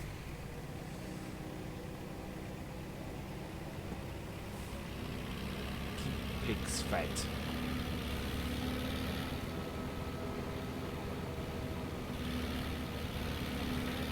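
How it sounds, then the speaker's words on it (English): In Farming Simulator 17, a tractor engine drones at a steady low idle throughout, fairly quiet, with a brief higher mechanical sound partway through and a few spoken words. "This tractor does sound fantastic as well"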